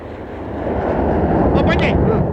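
An airplane passes overhead as a broad, steady roar that swells and holds through the moment.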